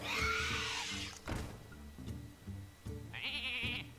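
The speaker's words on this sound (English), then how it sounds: "Hello, sheep." Sheep bleating several times in Hearthstone over a soft game-like musical background, with a high electronic chime near the end.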